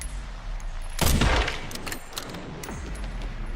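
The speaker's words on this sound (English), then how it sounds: "are they shooting mortars?" Mortar fire in the Resident Evil Requiem video game: a heavy blast bursts in about a second in, followed by scattered cracks and rumbling that slowly fade, with no talking.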